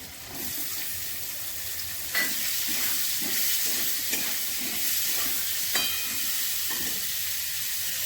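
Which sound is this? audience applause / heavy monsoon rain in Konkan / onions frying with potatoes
onions frying with potatoes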